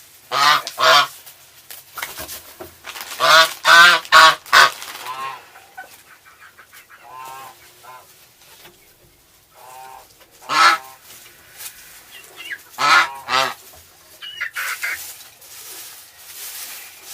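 Pet goose honking up close beside a phone camera, loud repeated nasal honks in clustered bursts with shorter clucking calls in between, spread across the whole stretch against a quiet background.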